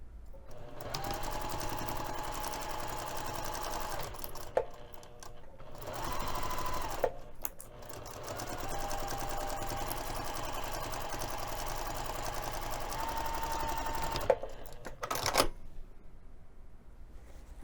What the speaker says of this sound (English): I'm going to take this over to the sewing machine and close my opening.